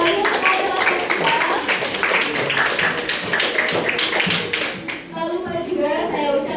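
Students at a high school evolution debate clap for the moderator, a steady crowd of quick claps that thins out near the end, with voices and chatter mixed underneath.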